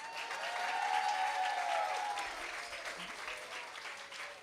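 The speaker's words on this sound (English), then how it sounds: "please join me in giving the 2022 graduates of K2 a rousing round of applause" Parents and guests at a kindergarten graduation ceremony give a rousing round of applause, a thick, steady roar of clapping that swells and then slowly tapers off toward the end.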